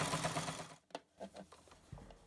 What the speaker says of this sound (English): I'm going to do a straight stitch down the entire long side of the mask